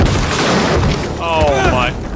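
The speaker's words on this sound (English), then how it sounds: "they're already shooting" Video game gunfire comes as loud booming shots and rapid bursts in a dense, continuous battle mix. Music and in-game voices sit over the shots, and no one speaks plainly on top.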